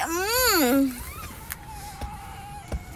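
A baby boy fusses and wails loudly in the opening second with a rising and falling cry, then quieter background sounds and faint clatter follow, in a kitchen where banana and coconut nilupak is being pounded by hand.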